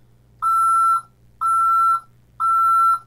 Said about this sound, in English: we get a backing up sound.